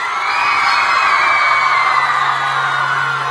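An audience at a high school talent show cheers and whoops loudly in an applause poll, a dense, sustained roar of shouting voices, many of them young, that holds at full volume throughout.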